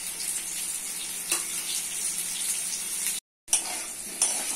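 Potato pieces frying in hot oil with turmeric and salt, a steady close sizzle with occasional stirring scrapes and a brief gap of silence midway.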